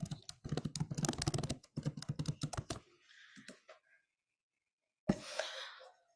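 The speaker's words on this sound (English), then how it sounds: "I'm typing it again just in case" Fast bursts of typing on a computer keyboard, dense clattering keystrokes in quick runs with short pauses, followed by quieter rustling and a brief breathy sound near the end.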